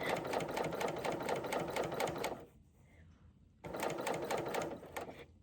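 A sewing machine stitching fabric along a curve runs in a fast, steady mechanical rattle, stops for about a second of near silence, then starts again at the same close, even pace.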